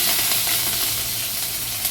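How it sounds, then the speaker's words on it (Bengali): Garlic and ginger fry in hot oil with whole cumin in a pan, giving a steady, close, bright sizzle with soft crackles and no voices. "1 চামচ আদা, 1 চামচ রসুন। এটা একটু ভাজা হোক।"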